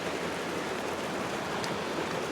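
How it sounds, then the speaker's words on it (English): Water runs down the windscreen of a Land Rover Defender, a steady soft hiss of trickling and splashing that stays even throughout with no voices. "look at the water coming down the screen"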